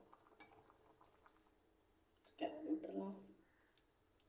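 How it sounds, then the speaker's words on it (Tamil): Chicken kuzhambu gravy boiling in a pot, a soft bubbling simmer that swells into a louder burst of close bubbling for about a second before settling back to a quiet background. "குழம்பு நல்லா கொதிக்குது."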